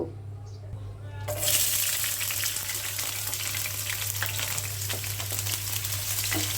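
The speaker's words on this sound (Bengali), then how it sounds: "সবগুলো তেলের সাথে ভালো করে ভাজবো।" Chopped onion and green chilies frying in oil in a pan with whole dried red chilies, a steady sizzle that starts abruptly after a quiet opening and continues with light scraping and stirring over a constant low hum.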